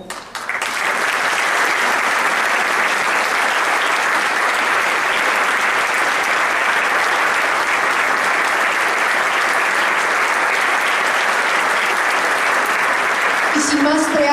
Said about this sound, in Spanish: Démosle un cálido aplauso al director de esta orquesta, el maestro Armando Tarango.